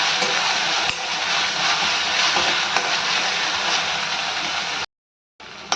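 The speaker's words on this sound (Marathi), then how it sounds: "त्याच्यामध्ये हे कांदा खोबऱ्याचं वाटण चांगली तेलामध्ये परतून घ्यायचं." Onion and coconut paste sizzles and crackles steadily in hot oil for a Malvani-style usal, a dense, even frying hiss. It cuts out briefly near the end.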